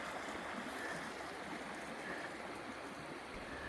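Water flowing steadily at an open pit mine near Hibbing, Minnesota, a continuous, even rushing wash with no pauses and no talk over it.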